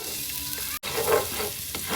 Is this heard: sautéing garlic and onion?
yes